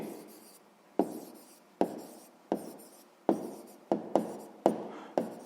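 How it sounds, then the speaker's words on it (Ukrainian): Pen writing an answer to a sixth-grade fraction comparison exercise on paper: repeated short scratching strokes, each starting with a sharp tap and trailing off, about eight in a steady rhythm, close and quiet. "Ну що ж, записуємо тоді відповідь."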